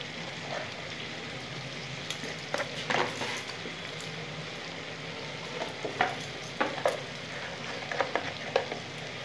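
Diced potatoes with salt, turmeric and black pepper sautéing in a pan give a steady soft sizzle, broken by repeated scraping stirs of a spatula close by.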